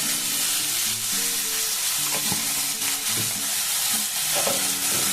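Salted cauliflower fries in a pan with a steady, dense sizzle throughout, broken by occasional soft stirring knocks.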